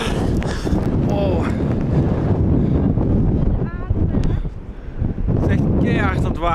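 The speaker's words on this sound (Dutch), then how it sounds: "Het is echt keihard aan het waaien." Strong storm wind roars loudly and steadily into the microphone throughout, with heavy buffeting and brief lulls, while excited voices talk over it.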